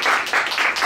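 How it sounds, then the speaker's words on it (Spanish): Short burst of audience applause after a seminar talk on grand unified theory, dense clapping from a room of listeners, close and continuous with rhythmic swells. "Pues aplaudamos otra vez"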